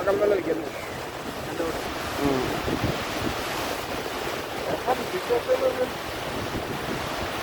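Ocean surf rolls onto a beach at Chittagong, a broad steady wash of waves with heavy wind buffeting the microphone and voices talking intermittently over it.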